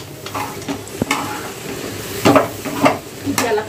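Chapati chivda is stirred and mixed in a pan after lemon juice is squeezed over it. A spoon scrapes and clinks in irregular strokes over a soft, steady sizzle, close by and moderately loud.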